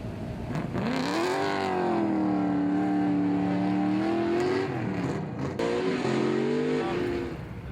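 A V8-swapped drift car engine at a Formula Drift event revs loud and close, holding a sustained roar that climbs and dips in pitch, with a brief break before revving again.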